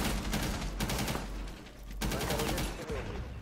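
Rapid gunfire from a video game, bursts of automatic shots rattling across the clip with short pauses between, loud and close in the game mix.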